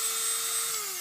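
A steady, high-pitched drill whine runs continuously for about a second, its pitch dipping slightly near the end as the bit bores through a plastic bucket.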